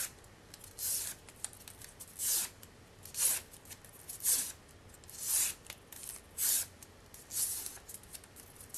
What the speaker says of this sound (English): I'm just going to run my bone folder on it to break up the fibers a little bit